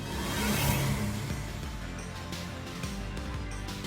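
A car laps a track in The Grand Tour video game, its engine rising in a moderate revving drone that then holds at a steady, fairly quiet hum with no speech.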